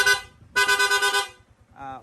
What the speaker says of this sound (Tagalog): Long press lang po natin itong horn switch, yung busina ni sir, magsusunod-sunod na po yan.